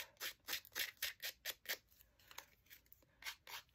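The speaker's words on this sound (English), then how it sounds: "I do this with the scissors" Scissors snip and rough up the edges of paper die cuts in a quick, steady series of about a dozen crisp, close cuts, quiet and with no talking.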